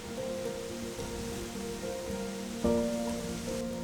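Heavy rain pours steadily over a mountain campsite on Bugwisan, a dense hiss with a brief louder surge near the end and faint tonal hums beneath.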